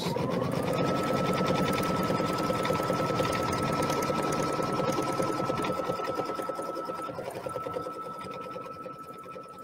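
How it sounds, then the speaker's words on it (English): An embroidery sewing machine runs a tack down stitch on fabric, its needle hammering in a fast, even mechanical rhythm with a steady whine, close and continuous throughout, slightly quieter toward the end. "And now put my presser foot down and begin to stitch. This is now doing the tack down stitch."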